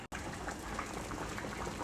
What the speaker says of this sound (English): I chopped up half of a cabbage and I'm boiling it